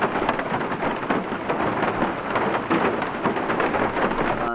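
Rain and thunder from an ambient sound added in a game map editor: steady, loud, dense rainfall with a low rolling rumble throughout, heard alone.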